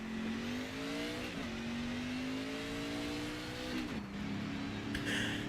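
A NASCAR 25 video game race car engine, with sound drawn from iRacing, drones loudly at high revs, its pitch climbing smoothly and dropping sharply twice as gears shift.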